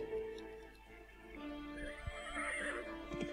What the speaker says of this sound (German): Hier bewegt sich ein Pferdchen.